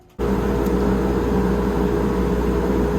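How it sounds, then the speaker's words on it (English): A woodworking shop's dust collection system switches on abruptly and settles into a loud, steady whirring roar that continues unbroken to the end. "I'm going to go ahead and turn on my dust collection"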